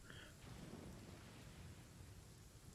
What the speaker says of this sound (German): Ist da gerade der Blitz vor das Haus eingeschlagen?